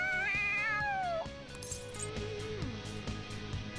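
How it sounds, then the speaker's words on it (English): A cat meows in the video game Persona 5 Royal, a long wavering high meow sliding downward and then a lower drawn-out mew, clear over faint game music. "The cat's acting awfully excited."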